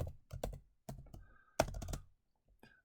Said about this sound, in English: Let me type it up here now.